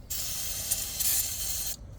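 An aerosol can sprays in one close, steady hiss of about two seconds into the engine of an abandoned Baja off-road race car.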